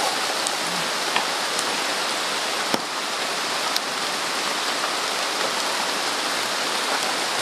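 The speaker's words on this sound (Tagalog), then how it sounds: "Malamig ang ulan." Steady, dense rain poured down on a tropical island, a constant loud hiss of drops with a few sharp louder taps, no voices.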